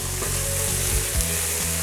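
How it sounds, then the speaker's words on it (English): Food fries steadily in a pan, a dense, loud sizzle with crackling throughout and no voices. "It's frying."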